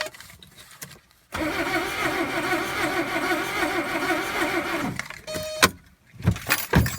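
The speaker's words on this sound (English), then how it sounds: "I'm going to try cranking this over again." A 1979 Mercedes 300D W123 diesel with a suspected fuel supply fault cranks on its starter in a steady, rhythmic churn for several seconds without catching, followed by a few clicks and clunks.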